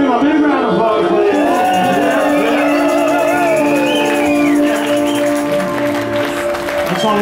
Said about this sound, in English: Let's y'all give him a big round of applause